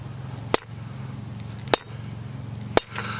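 Blacksmith's hammer striking a hot steel bar during forging to draw out a taper: three sharp, ringing metallic blows spaced about a second apart over a steady low hum.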